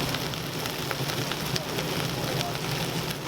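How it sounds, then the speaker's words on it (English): Beef or poultry bones searing in a pot for Thanksgiving gravy, giving a steady, dense crackling sizzle at moderate volume that carries on without a break and with no talk over it. "We're going to get good colors, good sear on these bones."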